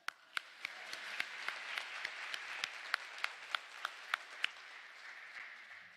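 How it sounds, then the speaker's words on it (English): Audience applause at a white coat ceremony, a soft steady patter with a string of sharp, individual louder claps standing out on a regular beat, fairly distant and continuing for several seconds without talk. "Another applause."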